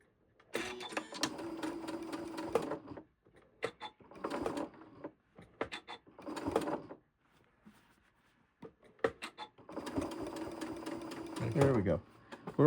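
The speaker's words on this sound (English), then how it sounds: "Now make sure I'm not sewing anything that I shouldn't be sewing in here." A domestic sewing machine stitches the side seam of a shirt in several bursts of rapid close whirring, pausing between runs, with quiet handling noise in the gaps.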